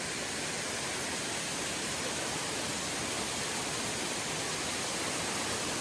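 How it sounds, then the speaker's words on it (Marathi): A village waterfall in the Konkan countryside roars up close, a loud, unbroken rushing hiss of falling water that stays steady throughout. "हा आपलं धबधबा"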